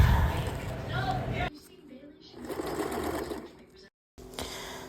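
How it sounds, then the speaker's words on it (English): A sewing machine runs in steady bursts while stitching along the top edge of felt panels for a homemade advent calendar, its loud whir stopping and restarting with a brief silent pause, a voice talking over part of it. "Just sewing the top edge of the panels."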